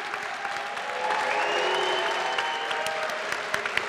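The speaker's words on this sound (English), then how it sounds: "would everyone join me one last time in giving them all a round of applause for their accomplishments" Audience applause for the inductees at the Buffalo Broadcasters Association 25th anniversary Hall of Fame induction ceremony, a steady, dense clapping from a large crowd that swells after the first second and holds for the rest of the clip.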